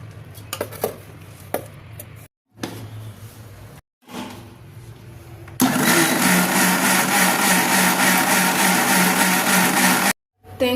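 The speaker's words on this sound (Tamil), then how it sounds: "இப்போ தேங்காய், துருவின தேங்காய், கொஞ்சம் ஜீரகம், ஒரு பச்சை மிளகா போட்டு அரைச்சிக்கலாம்" A mixer grinder grinds grated coconut, cumin and a green chili: first a few clinks of the jar and lid with short pauses, then the motor bursts into a loud, sustained whirring grind before stopping abruptly.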